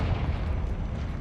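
Confringo blast effects in the video game Hogwarts Legacy, a dense continuous low rumbling roar of explosions filling the whole moment at steady loudness, with no one talking.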